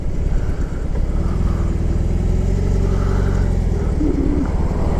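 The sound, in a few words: BMW R18 motorcycle engine while riding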